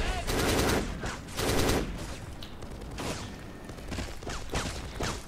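Gunfire aimed at the player in the Xbox shooter Black: loud bursts of rapid automatic fire in several rattling volleys, with quieter shots between them.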